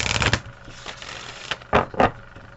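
A deck of tarot cards is shuffled close up, with a dense riffling burst at the start followed by several separate crisp flicks and slides spaced out after it.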